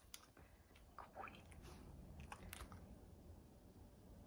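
A 13-year-old senior dog chews crunchy dry pasta up close, with soft biting crunches and a few sharp cracks over a quiet background.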